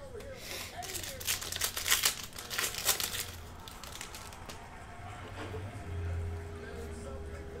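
A Panini Donruss Optic football hanger pack from 2017 is ripped open, giving a burst of crinkling, tearing foil that quiets into softer rustling, close and clear.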